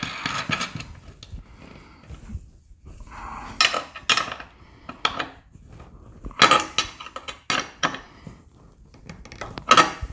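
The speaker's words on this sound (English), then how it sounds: "I'm going to go ahead and put that eye bolt in there. Tighten that up." An eye bolt is fitted and tightened on a garage door, with a string of sharp metallic clinks and clatters from tools, irregular and close, separated by brief quiet gaps.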